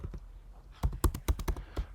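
Keys clatter on a computer keyboard in a short, irregular burst of close, crisp taps, a handful of strokes landing in quick succession after a quiet start, with no voices.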